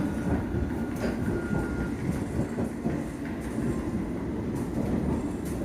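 A rumbling London Underground District line train rolls into a platform at Upminster with steady clickety-clack from the wheels and a faint squeal, loud and close, no voices.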